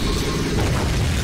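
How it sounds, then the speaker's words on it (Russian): Explosion in Garry's Mod, a Skibidi Toilet character blowing up when killed: a loud, sustained low rumbling blast that fills the whole moment with no pause. "Это он когда умирает, взрывается так?"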